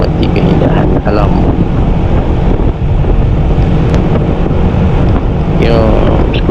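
A SYM 250i EVO scooter is ridden on the open road, with loud, constant wind roar buffeting the microphone and a rider talking over the rushing air throughout.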